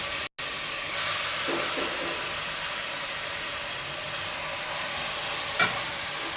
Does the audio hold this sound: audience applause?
no